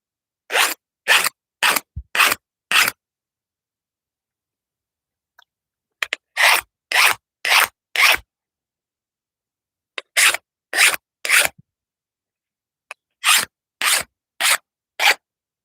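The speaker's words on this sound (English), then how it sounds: "Let's get the burr off this just real quick" A metal burr is rubbed off with short, quick file strokes, sounding in bursts of four or five rasping passes separated by pauses. The strokes are close and crisp, with no talk.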